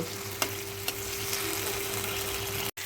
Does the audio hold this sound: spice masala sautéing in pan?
yes